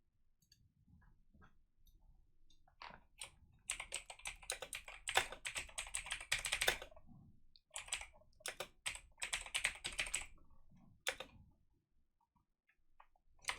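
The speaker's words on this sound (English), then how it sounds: "bad typing" Someone typing on a computer keyboard while scripting game missions, quiet close-up key clicks in irregular bursts with short pauses between flurries.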